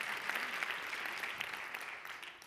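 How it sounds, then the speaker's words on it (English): Applause from a lecture audience, a steady dense patter of hand clapping at a talk on happiness and society, moderately distant and continuing evenly throughout with no voices over it. "thank you for the clap there"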